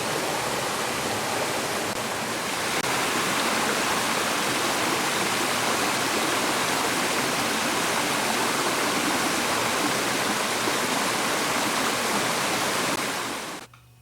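A North Carolina waterfall pours with a loud, continuous, even rush of white water, close up and unbroken for the whole stretch with no voices.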